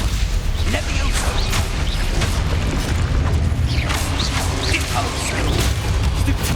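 Confringo blasting-spell explosions in the Hogwarts Legacy video game, heavy booming blasts that recur through a dense, continuous roar of combat noise, with a voice calling out now and then.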